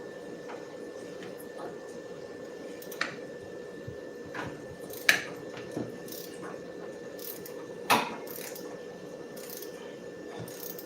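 A ratchet working loose the cylinder head bolts on a 1964 C10 402 engine, with sparse clicks and a few sharper metallic knocks over a low steady background hum.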